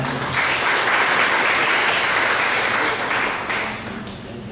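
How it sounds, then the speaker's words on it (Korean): Sustained audience applause at a sharing-economy forum as a presenter walks to the stage, loud and even throughout before tapering off toward the end. "지금 단상으로 올라오고 계신데 박수로 맞아주시기 바랍니다."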